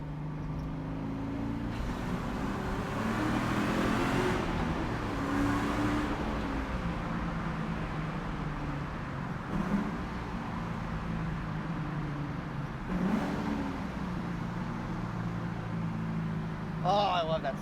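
A classic 1968 Camaro with a Magnuson-supercharged LS engine drives through a tunnel, giving a continuous rumbling exhaust drone with rising revs and a reverberant wash, heard from inside the car for the whole stretch.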